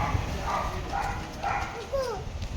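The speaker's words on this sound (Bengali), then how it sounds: "কুকুর ডাকছে।" A dog barks and yelps a few times at a moderate distance over a constant background hiss, with people talking nearby.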